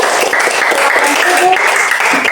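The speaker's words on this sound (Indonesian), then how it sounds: "tepuk tangan untuk kelompok 2" Students in a classroom clap for a presenting group, a close, steady patter of many hands filling the short stretch, with faint voices mixed in.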